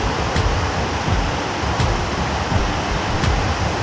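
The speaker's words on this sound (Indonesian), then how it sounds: "Welcome to the waterfall." The third tier of the Lubuk Hitam waterfall rushes in a steady, close, full-bodied roar of falling water, with a few faint sharp clicks recurring through it.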